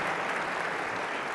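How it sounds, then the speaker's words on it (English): Brief, dense applause from an audience for a panel at the Saudi-U.S. Investment Forum in Riyadh, an even wash of clapping at moderate level with no distinct individual claps. "can we give our panel a round of applause, please?"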